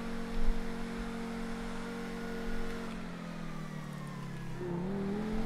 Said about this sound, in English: Woo, my man in the Lamborghini now